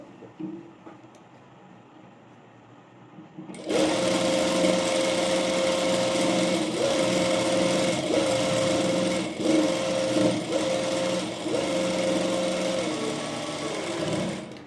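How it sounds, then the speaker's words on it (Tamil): A sewing machine top-stitches the folded hem of an A-line frock. After a quiet start it runs loud and steady close by, its even whirring rhythm broken by short pauses, with no talk. "நெக்ஸ்ட்டு டாப் ஸ்டிச் போட்டுக்கலாம். ஃபோல்ட் பண்ணிவிட்டு"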